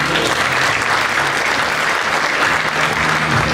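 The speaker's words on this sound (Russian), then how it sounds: "громкие аплодисменты всего зрительного зала" A full theatre audience at a formal closing ceremony gives loud, sustained applause, a thick continuous roar of clapping that holds steady throughout with no speech over it.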